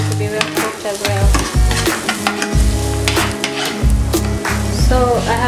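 Garlic frying in a pan while being stirred for a homemade pizza sauce, a continuous close sizzle broken by repeated scraping stirs, loud and alone without talk.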